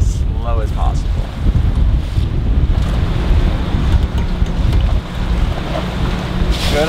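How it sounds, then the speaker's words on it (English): Strong wind buffeting a boat idling along the Florida coast near Vero Beach, a constant loud rush of wind noise over the microphone mixed with water wash, no voices standing out. "Good amount of wind."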